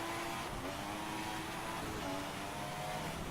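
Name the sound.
F1 2016 video game car engine over-revving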